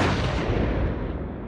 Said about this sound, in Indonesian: sang ayah malah meledakkan bom bunuh diri di hadapan regu Combat Rescue dan anaknya sendiri